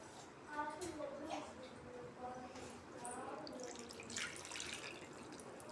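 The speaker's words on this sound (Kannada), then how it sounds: "ಹುಣಸೆಹಣ್ಣು ಮುಳುಗೋ ಅಷ್ಟು ನೀರು ಹಾಕ್ಕೊಂಡು ನೆನೆಸ್ಕೊಳ್ಳಿ." Water pours from a tap into a bowl of tamarind with a near, steady splashing and trickling stream, loudest in a couple of surges, with soft background noise and no speech.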